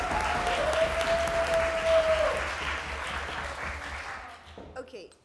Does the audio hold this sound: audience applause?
yes